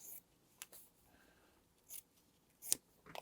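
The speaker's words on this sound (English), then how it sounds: "Just cut it down, use the scissors, and just cut it down a little bit more" Scissors snip through quilting fabric while trimming a string quilt block, giving a few short, crisp cuts separated by quiet pauses, close and fairly soft.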